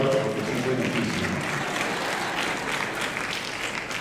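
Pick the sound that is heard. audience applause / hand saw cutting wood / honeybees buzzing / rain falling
audience applause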